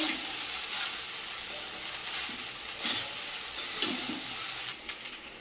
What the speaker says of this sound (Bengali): দিয়ে দেবো গোলমরিচের গুঁড়ো দিয়ে আবারও ভালো করে নাড়াবো